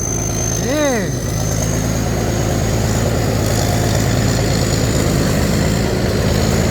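An engine running steadily after a rebuild, with a continuous low rumble and even idle throughout; a brief rising whine or vocal-like tone sweeps up near the start over the constant drone.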